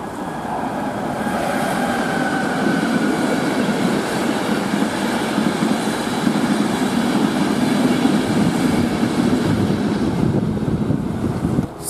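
The EuroCity 81 passenger train from Munich to Bologna Centrale rolls past at Brennerbad on the Brenner south ramp, a loud, steady rushing roar with rhythmic wheel clatter that holds for the full stretch, with no voices.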